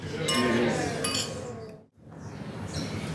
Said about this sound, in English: So for that and good memories of Nathan, let's cheer. Cheers. Cheers.